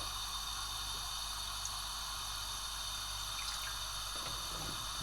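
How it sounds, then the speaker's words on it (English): Water running steadily into a pan on a stovetop, a continuous faint pouring hiss with no talk, while preparing lemon curd for a lemon meringue pie. "400 millilitres of water."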